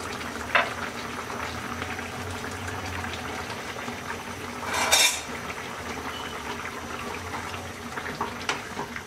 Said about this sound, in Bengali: বলক চলে আসছে